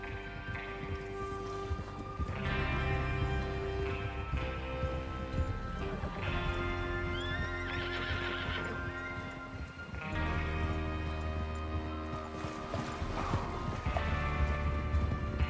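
Horses gallop in Red Dead Redemption 2 as a gang rides out to rob a train, with a continuous rhythmic clatter of hooves under a sustained musical score throughout.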